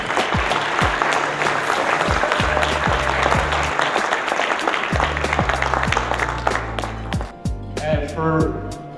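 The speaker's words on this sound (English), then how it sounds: "a big round of applause for Carl and Diana's parents" Wedding guests applauding the parents of the bride and groom during a best man speech; continuous applause under strong musical or tonal sound, with a voice present.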